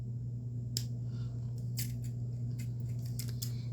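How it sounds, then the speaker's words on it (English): Scissors snip through thin jewelry wire in a quiet room, a series of sharp clicks, one alone then several in an uneven run, close by over a steady low electrical hum. "I'll just cut some wire pieces"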